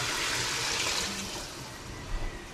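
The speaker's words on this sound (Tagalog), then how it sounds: "Lalagyan na po natin ng tubig para atin mo nang papalambutin" Water pours steadily into a pressure cooker for dinuguan with banana blossom, a continuous rushing splash, close by, easing slightly toward the end, with no talking.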